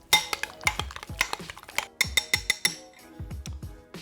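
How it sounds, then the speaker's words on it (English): Spoon clinking and scraping against a bowl while diced pickles are stirred into a homemade special sauce, a quick series of sharp close metallic taps in an irregular rhythm, fairly quiet with no talking. "drop them in your bowl, mix with a spoon"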